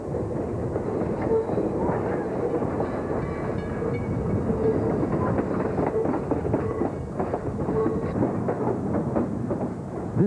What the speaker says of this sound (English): Back on our train, we paced the highway for a few miles, passing through the towns of Fortuna and Fernbridge.